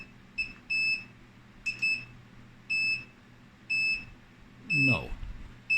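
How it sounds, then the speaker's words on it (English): An Armac 650 UPS running on battery gives a series of short, high electronic beeps in a steady repeating pattern, fairly loud and close, with a brief rustling thump near the end. "so now we're getting some beeping, which I believe we can't turn off"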